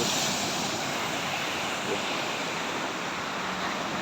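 Floodwater lies across Mae Chi Road in Ubon Ratchathani as a car pushes through, a steady loud rushing wash of water with wind-like noise and no voices.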